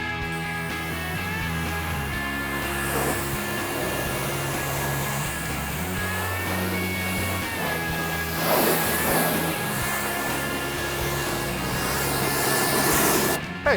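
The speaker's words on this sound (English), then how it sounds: "this pressure washer that we have it's amazing, and I can get the job done in like 5 minutes" A pressure washer sprays the underside of a 1970 Dodge Charger R/T Special Edition with a 440 engine, a steady hissing jet over a constant mechanical hum, with surges of louder spray in the middle and near the end.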